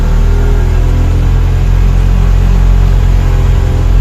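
A loaded manual-transmission vehicle hauling two to three tons labors up a steep mountain ghat road, its engine a loud, steady, deep rumble that holds on without letup and with no voices.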